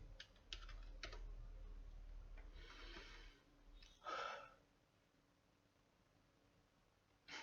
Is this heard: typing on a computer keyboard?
yes